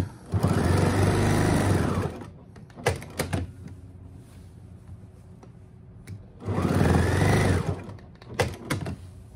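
Sewing machine stitching a seam on kimono-style sleepwear in two short runs of rapid whirring, each separated by clicks, thumps and quiet handling of fabric.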